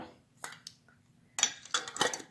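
A lid is fitted and twisted onto a thermos filled with hot water, giving a few close scraping clicks and soft knocks separated by short pauses.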